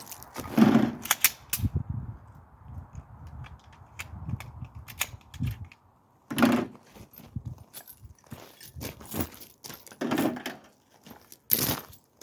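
A Glock pistol slide is taken apart by hand at close range, with scattered sharp metallic clicks and small scrapes of parts separating, spread across a quiet room.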